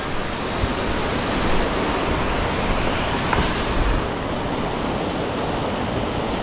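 Water of Chips Creek rushes beside the Chips Creek Bridge along the Pacific Crest Trail, a steady, dense, loud roar with no pauses, heard alone throughout.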